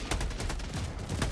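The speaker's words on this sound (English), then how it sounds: "Mad calling in a Gatling barrage right where the fucking people have to go into." An orbital Gatling barrage in Helldivers 2 pounds down as a loud, continuous stream of rapid impacts and shots, steady and close throughout with no talking.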